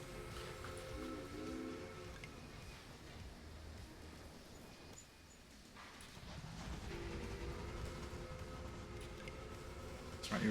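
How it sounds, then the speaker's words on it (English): Trains running on track in the Railway Empire video game, with a steady rolling rumble and tonal humming bands throughout, dipping briefly near the middle before swelling again, with no talk over it. "Just finished sorting out all these trains because they've all gone on the most awkward track they can."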